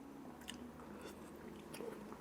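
Quiet chewing of nakgopsae stew eaten with noodles, with soft, close-up bites and a few faint crunches over a low background hum, no speech.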